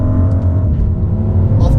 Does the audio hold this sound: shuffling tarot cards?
no